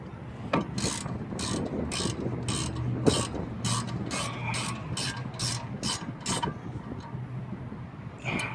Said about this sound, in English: Now you wanna tighten your caliper bracket 19mm bolts.